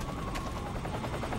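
In the Metal Gear video game, a helicopter's rotor gives a brief, steady, rapid thudding chop at moderate volume, with no speech.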